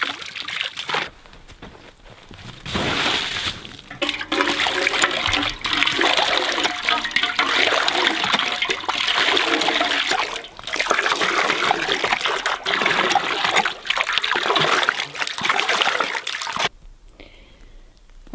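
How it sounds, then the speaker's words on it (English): Water from a newly drilled well is pumped out to flush sediment from the pipe, pouring and splashing in a loud, steady gush for most of the stretch before cutting off abruptly near the end. "Now we're gonna pump this for a while to get all of the sediment out of the pipe."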